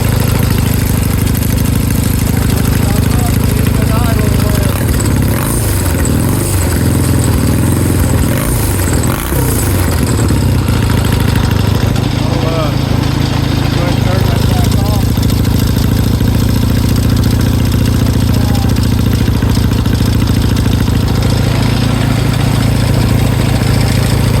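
A rotary engine idles with a loud, continuous low drone. The note shifts briefly as it is revved, and voices are faintly audible over the steady running.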